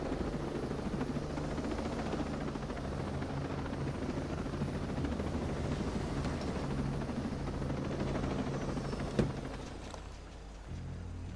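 Private helicopter in the video game Ghost Recon Breakpoint, a faint steady rotor drone with dense low thumping, continuous throughout and without speech.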